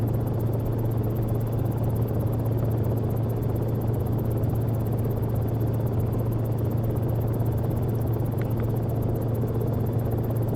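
A Cicare 8 helicopter in the X-Plane flight simulator drones steadily in flight, a constant low rotor and engine hum with broadband wash that holds unbroken and even throughout, with no talking.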